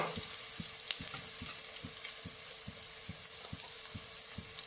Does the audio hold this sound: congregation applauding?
no